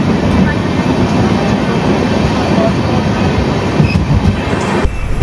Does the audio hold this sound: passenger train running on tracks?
yes